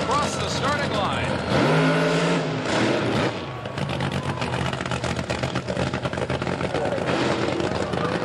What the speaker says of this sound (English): McEwen and Oswald move forward for the dry jerks to heat up the tires and rocket across the starting line.